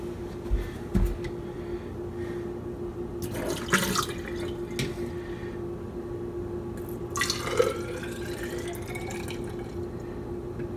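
Water is poured out of a graduated cylinder during a rock identification test, giving quiet trickles and scattered drips with a few louder splashy spurts over a faint background hum.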